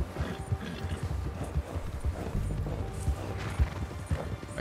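Horse hooves clip-clop steadily in a rapid galloping rhythm in the Red Dead Redemption 2 video game, close and continuous, with occasional neighs and whinnies over a low rumbling game backdrop.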